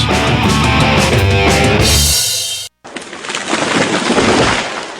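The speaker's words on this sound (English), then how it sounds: "That was the sound of a tree falling." A short musical passage, then a brief silence, then a loud, sustained crashing roar as a tree falls, rumbling and rushing like a heavy downpour.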